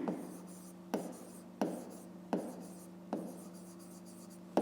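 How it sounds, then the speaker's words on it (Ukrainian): Pen writing an equation in a school maths notebook, close and quiet, with short scratching strokes and a sharp tap roughly every second as each character or line is finished. "Давайте так і запишемо."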